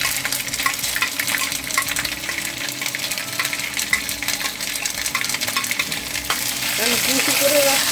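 Crushed garlic and spices frying in a pan, a steady close hiss and crackle of hot oil with light utensil taps and scrapes, growing slightly louder toward the end.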